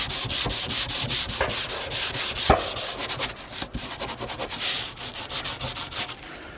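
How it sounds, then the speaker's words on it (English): A scourer scrubs mud off a metal garden tool in rapid, close back-and-forth rasping strokes, a steady scratchy rhythm with one sharper knock partway through. "it's got a bit of dirt on it, so we just rub it with this scourer"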